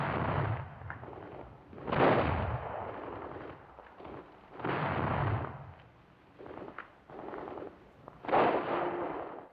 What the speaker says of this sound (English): Heavy MG and mortar stick close to the foremost squad.